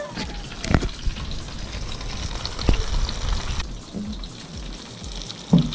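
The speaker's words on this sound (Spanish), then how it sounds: "Vamos a freírlos, señores." Tilapia fry in a hot pan with a steady, close crackle and sputter, broken by a few louder pops and spits.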